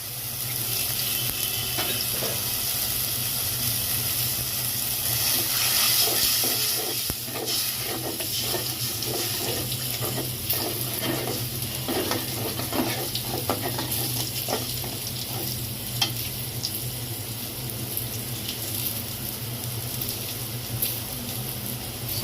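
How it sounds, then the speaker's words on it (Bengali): Beef curry sizzles steadily in a pan as water and spices such as chili powder, turmeric and salt go in, with a constant frying hiss, occasional stirring scrapes and splashes, close and without talk. "এখন আমি পানি দিয়ে দিব।"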